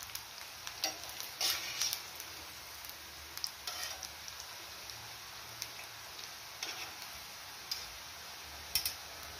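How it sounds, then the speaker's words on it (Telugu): Potato pieces frying in a pan of oil, a steady soft sizzle with scattered light taps and scrapes as they are turned one by one, heard up close with no voices. "ఒక్కొక్కటిగా టర్న్ చేసుకుంటూ ఫ్రై చేసుకోవాలి."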